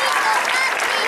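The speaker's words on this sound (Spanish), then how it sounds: "Un fuerte aplauso para los padres que están" A crowd at a sports club party in honour of athletes bursts into loud, dense applause for the parents, with clapping heard close and continuous throughout and voices faintly mixed in.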